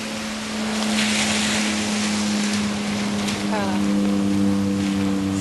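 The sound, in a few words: rainwater running down a street toward a culvert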